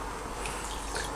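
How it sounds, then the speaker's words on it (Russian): Water poured into a pot of hot brine for hot-smoking chicken, a brief steady splashing trickle lasting about a second, close and fairly quiet. "Блин, придется добавить воды немножко"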